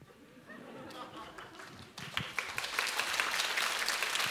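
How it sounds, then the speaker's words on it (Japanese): Applause from a concert audience at a 15th anniversary tour show in Hamamatsu, starting lighter and swelling into a dense, loud wash of clapping from about halfway, with a voice briefly audible early on. "おやおや、浜松に拍手だ。"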